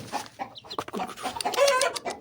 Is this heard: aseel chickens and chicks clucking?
yes